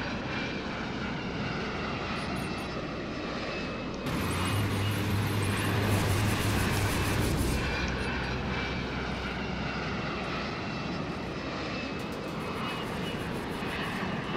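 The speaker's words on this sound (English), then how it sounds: "Apache helicopter" An Apache helicopter's engine and rotors drone in a War Tycoon battle, a loud, continuous mechanical roar that holds steady for many seconds and swells in the middle, with no speech.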